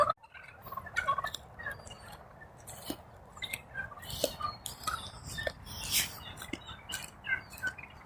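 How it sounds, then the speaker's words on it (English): A flock of about 27 wild turkeys calls at sunrise near a campsite, with repeated overlapping gobbles and clucks at varying distances, some loud and close, over a steady outdoor hush. "There's 27 birds just right here."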